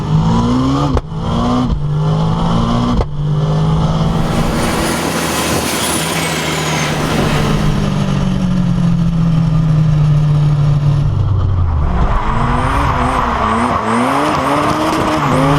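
A Ford Escort Cosworth rally car with a 600 hp engine that revs to 10,000 rpm revs hard and high, pitch climbing and dropping through gear changes, loud and close with no talking.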